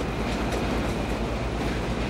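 Train rumbling along the tracks in the video game Battlefield 3, a loud, dense continuous roar with faint rhythmic wheel clatter, no speech over it.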